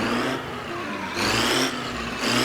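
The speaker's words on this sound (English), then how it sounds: "That is a new engine sound to BeamNG, and it sounds really realistic." A vintage car's flathead four-cylinder engine idles and revs in the BeamNG driving game, a steady mechanical drone that rises and falls in two surges. It is loud and close, with no speech.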